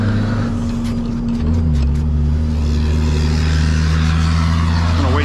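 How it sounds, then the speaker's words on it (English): A truck drives past on a nearby road, a loud steady low engine drone and rumble that swells and holds for several seconds, with a brief rattle and a rising whine near the end. "I'm gonna wait till that truck goes by."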